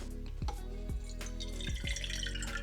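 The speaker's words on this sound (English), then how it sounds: "I'm going to top that up with water" Water is poured into a plant pot saucer during watering, a close continuous trickle and splash with low bubbling gulps recurring about every half second.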